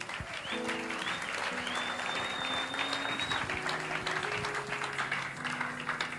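Church congregation applauding for God, a steady wash of many hands clapping together, with sustained keyboard-like tones playing underneath throughout.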